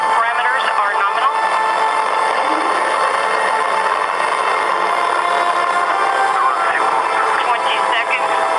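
Soyuz TMA-05M rocket launch carrying a crew to the International Space Station, a steady loud broadband roar of the first-stage engines throughout, with radio voices heard over it.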